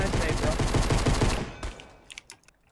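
Rapid pistol gunfire from the Fortnite battle royale game, a dense fast burst of shots for over a second, then a few sparse, scattered shots trailing off, loud and close.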